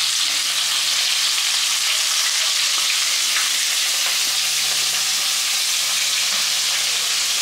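Chopped onions fry in a pan with a steady, close broadband sizzle, stirred now and then with soft scraping touches throughout, for a Bengali home lunch.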